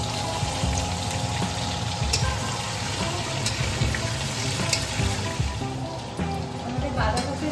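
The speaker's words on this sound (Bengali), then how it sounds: "বাঁধাকপির আলুগুলো ম্যারিনেট করে ভেজে দিলাম।" Marinated potatoes for a cabbage curry fry in hot oil with dried red chillies, cumin and panch phoron, sizzling and crackling steadily with occasional stirring scrapes while a person talks over it.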